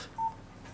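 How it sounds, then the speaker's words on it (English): A short, clear electronic beep from a mobile phone's text message alert sounds once at moderate volume in a quiet room. "Oh, bloody phone. It's only a text."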